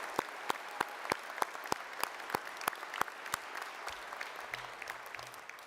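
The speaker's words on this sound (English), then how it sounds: "Can we give a quick round of applause to these graduates?" Graduates at a university convocation ceremony receive a round of applause, a light crowd clapping with sharp distinct claps that carry on steadily, fairly distant and without talk.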